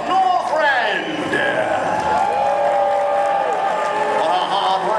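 Crowd cheering and applauding for the Blue Knight, Herald of Northrend, at a Blizzard-themed Medieval Times tournament show, a steady roar under an announcer's voice.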